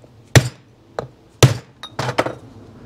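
Metal tool tapping at a carburetor mount on a Yamaha 100 Trailmaster motorcycle, several sharp close knocks spaced unevenly, with a quicker pair of taps near the end.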